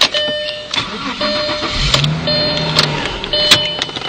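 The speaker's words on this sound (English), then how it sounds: "That starts right up." A 2002 Audi A6 engine cranks and catches, then runs steadily at close range with a mid-pitched hum, with a few faint clicks over it.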